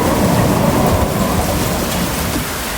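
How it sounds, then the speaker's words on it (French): Heavy rain pours in a steady, dense roar with low rumbling that suggests thunder, loud and close throughout, with no voices. "C'est une grosse pluie."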